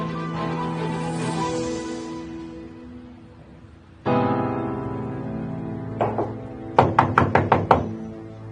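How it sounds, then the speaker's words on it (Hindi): Knocking on a door: a few heavy knocks, then a short pair and a rapid run of loud bangs, close and alone with no speech. "क्यों दरवाजा पीट रहे हो तुम?"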